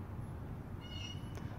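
A kitten gives one soft, short meow over a steady background hum. It sounds faint and somewhat distant.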